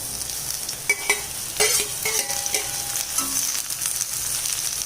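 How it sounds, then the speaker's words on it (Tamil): Ridge gourd peel being stir-fried with ginger in a pan, a close sizzle with scraping stirs and a few clinks of a spoon against metal, no talking. "இப்போ இஞ்சி வதங்கிடுச்சு. இந்த எடுத்து வச்சுருக்க இந்த தோல் சேர்த்துக்கலாம்."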